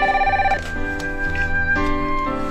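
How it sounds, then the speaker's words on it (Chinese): A telephone rings indoors with a bright, electronic warbling tone that repeats in short bursts and stays clear and fairly close with no voices over it. "我去接电话了啊"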